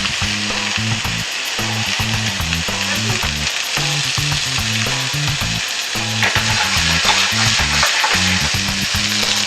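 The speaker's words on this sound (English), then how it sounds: "What a sear does is it browns the outside of the meat and creates like a natural coating." Hunter's sausage sears in a hot pan, giving a loud, close, unbroken sizzle and crackle that carries on throughout, with no talking over it.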